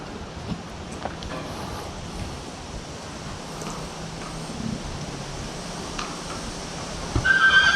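A horse being moved in a barn calls out with a sharp whinny near the end, over a low, breezy barn background with faint shuffling.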